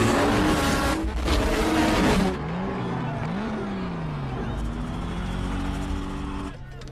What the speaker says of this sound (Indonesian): Dom menggunakan nitros tersembunyinya dan melesat mengalahkan Brian